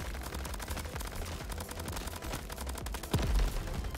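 Rapid gunfire in the third-person shooter Crab Champions crackles in a dense, continuous burst, with a heavier thump near the end; loud and up close, with no talk.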